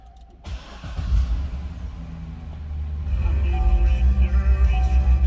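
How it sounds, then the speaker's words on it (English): A 2007 Chevrolet Corvette coupe engine cranks and fires, settling into a deep, throbbing idle that swells louder after a few seconds, close and alone without talk. "Start it up, let's hear it run."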